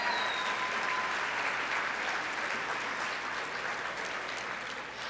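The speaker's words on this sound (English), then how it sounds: "Applause now." Sustained audience applause fills a gala evening hall, a dense, steady wash of many hands clapping at even loudness throughout, with no voices standing out.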